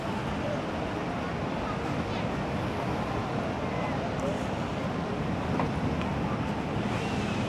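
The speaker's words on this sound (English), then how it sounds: "But it's really windy at the moment." Strong wind blowing on the beach at Legian, Bali, heard as a steady, low rushing roar that buffets the microphone throughout, with faint distant background sounds underneath.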